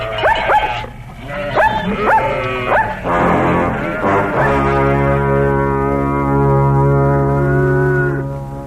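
Several sharp dog barks in quick succession, then a long drawn-out howl-like tone that holds steady and fades.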